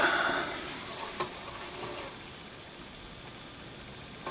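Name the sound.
Land O'Lakes butter melting and sizzling in a hot pan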